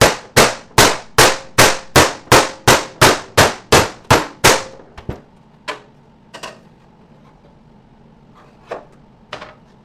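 A hammer pounds an Audi fender in about a dozen hard, evenly spaced metallic blows, close and loud, followed by quieter scattered knocks and pauses.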